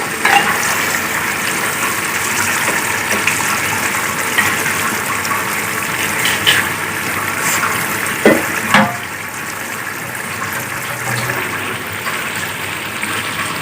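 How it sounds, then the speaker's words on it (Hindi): Boiled chutney water gushes and splashes into a pot while restaurant-style biryani is cooked, a continuous pour with a few brief clinks near the end. "ये देखिए चटनी का पानी डाला।"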